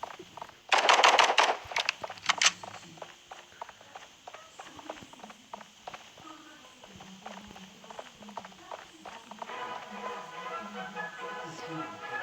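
Rapid automatic gunfire bursts loud and close in an online hide-and-seek shooter game, followed by quieter in-game footsteps and scattered clicks under a low background hum.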